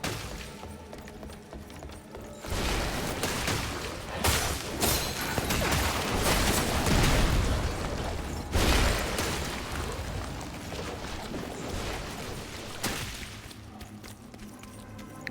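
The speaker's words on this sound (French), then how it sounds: "Ok, d'accord, c'est littéralement des pièces d'artillerie." Heavy artillery pieces fire in the video game Wuchang, dense rumbling booms and bursts rolling over one another at close range, loud and sustained with a few sharper blasts standing out.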